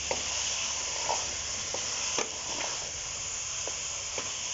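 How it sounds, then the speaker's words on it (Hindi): Mixed vegetables frying in oil and spices, a continuous close sizzle with occasional soft scrapes and taps of a spatula stirring the pan, no talking. "अब हम इसको अच्छे से मसाले के अंदर भूनेंगे"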